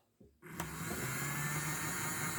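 A Hornby Flying Scotsman model locomotive's motor with an armature flywheel whirs up after a click and settles into a steady, close, fairly quiet mechanical hum with a buzzing tone, alone without speech.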